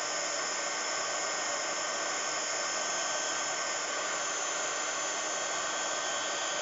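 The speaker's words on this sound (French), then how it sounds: "une fois que le pistolet il est chaud, hein, ça va assez vite" A heat gun used for hot embossing blows continuously with a steady, loud, hissing roar of air and no breaks or voices.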